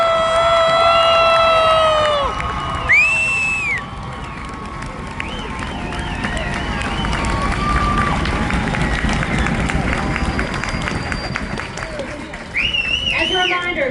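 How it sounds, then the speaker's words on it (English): A large outdoor crowd applauds and cheers for the Army's newest soldiers at a graduation ceremony, with whoops, shouts and whistles rising over steady clapping. A loudspeaker voice is heard at the start and near the end. "let's give one more round of applause for the Army's newest"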